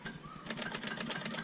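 A car starter motor cranks repeatedly without the engine catching, a fast rhythmic whirring with regular pulses, fairly faint and close, with no talk over it.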